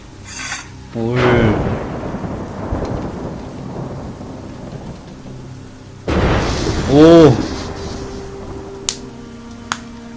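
Heavy thunder cracks and rumbles twice over steady rain during a storm in Assassin's Creed Rogue, loud and near, with sharp clicks near the end.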